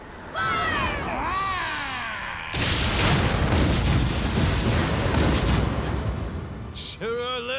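Pirate ship cannons fire in a Like a Dragon game sea battle, a sustained roaring barrage of booms after a stretch of high whistling tones, loud and continuous.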